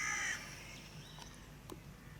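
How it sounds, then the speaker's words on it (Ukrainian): A crow caws once nearby, followed by a couple of fainter calls in the distance over a quiet outdoor background near a crucifix around Rothenburg, Germany. "Коли ми підійшли до цього місця, з розп'яттям почали каркати ворони."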